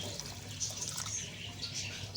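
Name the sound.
pouring water into a cooking pot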